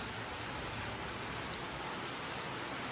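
Rain falls outside a house on a stormy, overcast day, a steady soft hiss of drops with no voices, even and unbroken throughout.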